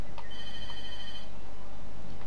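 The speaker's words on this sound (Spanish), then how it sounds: "Están llamando por teléfono." A telephone rings inside a video game, giving a clear electronic ring with bright steady tones for about a second, then fading into background ambience.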